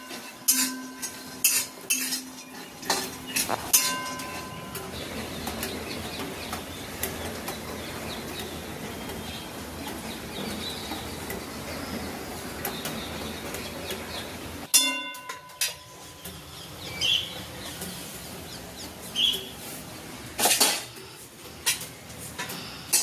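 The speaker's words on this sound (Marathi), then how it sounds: "शेंगदाणे भाजून घेते." Peanuts roasting in a dry pan, stirred with a metal spoon: steady rattling and scraping with irregular clinks against the pan, close and fairly loud, with a brief pause midway and no talk.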